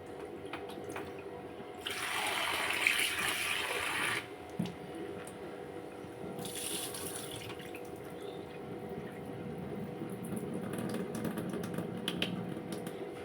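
Soaked lentils being rinsed under running water in a kitchen, two bursts of tap water splashing with quiet handling and clinks between them.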